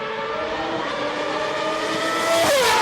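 Superleague Formula race car exiting the last corner at the Nurburgring in qualifying, a loud high-pitched engine whine rising steadily and surging louder at the end as it accelerates past.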